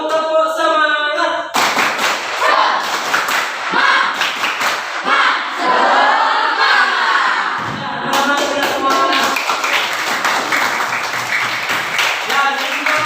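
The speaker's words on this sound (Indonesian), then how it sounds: "mari kita melakukan tepuk semangat" A class claps out a rhythmic spirit-clap routine in a lesson, loud, patterned bursts of hand claps with voices chanting and calling along between and over the beats.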